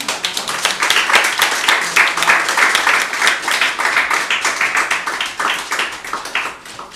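Sustained audience applause after a live poetry reading in San Marcos, Texas: dense, steady clapping from a crowd throughout, fading slightly at the end.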